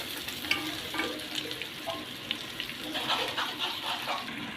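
Taro hits a pan with oil and butter and is stir-fried, giving a quiet crackling sizzle with scattered clinks and scrapes of stirring and a light watery hiss, with no speech.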